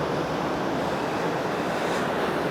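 Ocean waves break on the shore at sunrise, a continuous dense roar of surf with some wind buffeting the microphone, steady and fairly loud throughout the short stretch.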